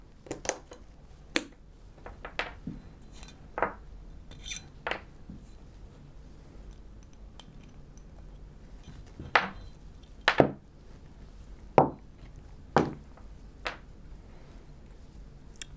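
Metal internal parts of a pistol click and clack during disassembly, with sparse, sharp, close taps and snaps spaced irregularly over a quiet background and no talking.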